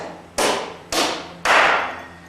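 Three sharp, loud hammer strikes on nails being driven into a wooden jetty, evenly spaced about half a second apart, each with a short ringing decay, with no talk.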